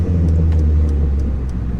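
A loud four-cylinder car engine breathing through an oversized 3.5-inch exhaust gives a steady, deep, close rumble that drones without pause, with no voices over it.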